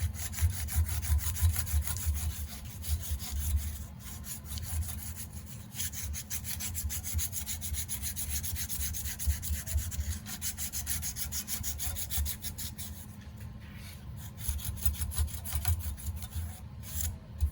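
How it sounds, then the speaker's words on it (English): A thin folded strip of 600 grit sandpaper rubs back and forth through the offset jaw of a metal trap, making a steady, close rasping scrape that continues without pause. "fold it up to a nice little thin piece here, and run it up through between this offset"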